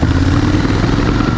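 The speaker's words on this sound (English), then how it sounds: "can't wait to ride along these cobbles on a motorbike the entire way." A motorbike rides over cobbles, its engine drone loud and close with a constant rumbling clatter from the rough surface.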